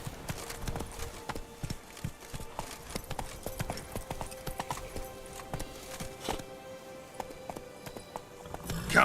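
Roach, Geralt's horse in the video game Witcher 3, gallops in steady rhythmic hoofbeats, a continuous clip-clop close by with a brief snort or whinny near the end.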